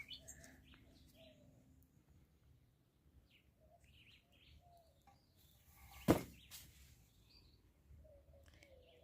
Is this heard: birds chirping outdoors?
yes